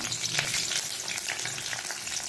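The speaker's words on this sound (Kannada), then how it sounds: "ಬೆಳ್ಳುಳ್ಳಿ ಸ್ವಲ್ಪ ಫ್ರೈ ಆಗುವಾಗ ನಾವು ಅದಕ್ಕೆ ಒಗ್ಗರಣೆ ಸೊಪ್ಪು, ಕರಿಬೇವಿನ ಸೊಪ್ಪನ್ನು ಹಾಕೊಳ್ತಿದ್ದೇನೆ" Garlic tempering sizzling steadily in hot oil as curry leaves go in, a dense close crackle with faint stirring and no talk.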